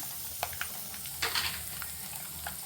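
Urad dal and chana dal sizzle steadily in hot oil with mustard seeds and curry leaves, a continuous close frying hiss broken by a few sharp pops and crackles.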